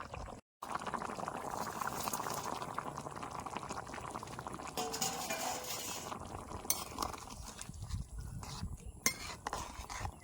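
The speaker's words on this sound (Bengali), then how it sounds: "এখন হা কোপ্তা দিই তরকারির মধ্যে দিয়ে দেবো" Koftas going into a simmering vegetable curry with boiled potatoes, a steady bubbling boil with soft liquid splashes and a few utensil clinks against the pot, fairly quiet and close, without talk.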